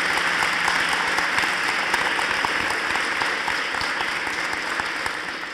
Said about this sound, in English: if we can give a round of applause for Tarana Burke.